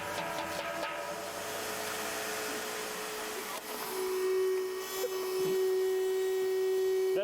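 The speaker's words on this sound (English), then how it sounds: "That's the sound of a healthy vacuum." A canister vacuum sucks up hot ash and coal in a steady, loud, continuous whine with a droning hum, holding constant throughout with a slight pitch shift midway and no talk.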